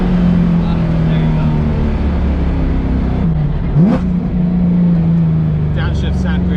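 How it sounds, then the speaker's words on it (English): A Chevrolet Corvette C7 Z06 engine drones loudly, then blips and drops in pitch as it downshifts midway, with faint speech-like sounds near the end. "Downshifts sound great in this car."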